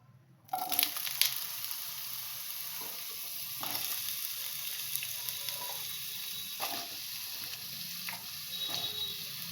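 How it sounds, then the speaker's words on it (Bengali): Long-cut, washed potatoes frying in hot oil, a steady soft sizzle with a few crackling bursts and occasional utensil clinks, quiet and continuous after a brief silent start. "এই আলুগুলোকে আমি এই তেলে ভেজে নেব"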